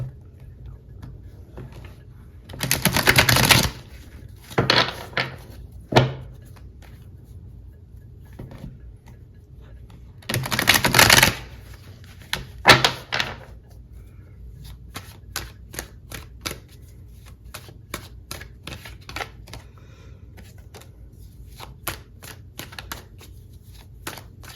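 Tarot cards being shuffled by hand, with several loud riffling bursts separated by quieter stretches of soft taps, flicks and card clicks, close and dry with no speech.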